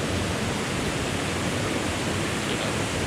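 A dense, steady roar of rushing water from Jeriau Waterfall at Fraser's Hill, Pahang, broadband and constant throughout, heard up close with no other sounds.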